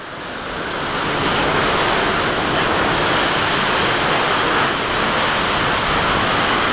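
Strong storm wind and rushing floodwater roar as a loud, steady broadband wash, heard from inside an office during a typhoon, with no voices.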